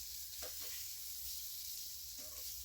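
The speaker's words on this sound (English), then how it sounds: "Now we're going like this, cooking that bit." Shrimp sizzle quietly in a hot pan with a soft, continuous frying crackle and a few faint stirring sounds.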